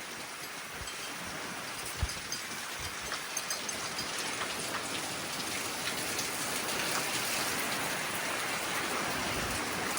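Heavy rain pours in a severe wind storm, a dense steady hiss with scattered drops striking nearby surfaces, growing slightly fuller toward the end.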